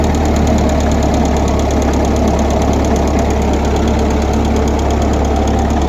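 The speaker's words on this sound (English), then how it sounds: "while she idles up and let her warm up her engine a little bit." An old tractor engine undergoing a cheap refurbishment idles close and loud with the choke on, running in a steady rapid knocking clatter that holds evenly throughout with no voices.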